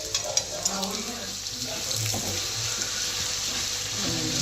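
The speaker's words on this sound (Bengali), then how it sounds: "এই যে এক এক করে সব ভাজা হচ্ছে। দেখবে কি সুন্দর ফুলে যাচ্ছে" Puffed flatbreads frying one at a time in hot oil give a steady, fairly loud sizzling hiss throughout, with faint voices talking underneath.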